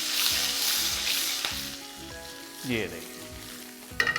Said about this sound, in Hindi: देखिए मसाले भुन गए, मिर्ची भुन गई, गैस ऑफ।